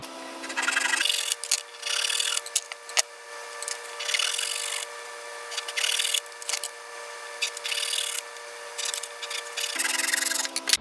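Handsaw cutting small wooden pieces, about 2.5 inches long, for a cigar box guitar bridge, in steady rhythmic back-and-forth strokes that are close and loud, with brief pauses at the start and end.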